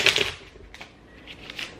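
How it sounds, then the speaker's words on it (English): A deck of cards is shuffled by hand up close, giving soft, rapid papery riffling bursts that rise and fade across the moment with no voices. "But I am gonna shuffle the deck here."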